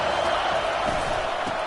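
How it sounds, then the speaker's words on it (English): Dense crowd roar rises steadily in a college football video game as the defense lines up on third down, a broad, continuous wash of cheering with no clear pauses. "Decibels rising as the crowd gets behind this defense on third down."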